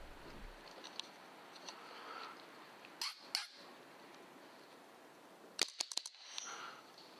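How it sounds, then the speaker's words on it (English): Rapid shots from an EDgun Leshiy 2 air rifle emptying its magazine, sharp snapping cracks in small bursts over a quiet background of faint rustle, fairly close, with no voices. "Here's my first bully mag dump with the EDgun Leshiy 2."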